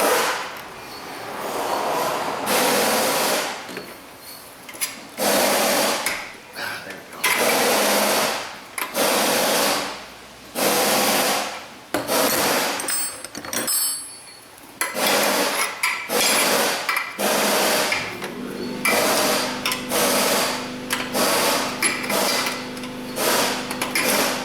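A wrench works a fuel line flare nut on a Chevy Corvette with a hot no-start fault. Close, loud bursts of rapid mechanical clicking repeat with short pauses between them, and no one talks.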